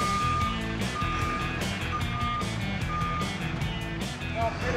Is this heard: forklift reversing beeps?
yes